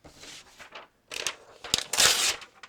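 Paper crumpling in several bursts of crinkly rustling, close and fairly loud, with brief pauses between handfuls.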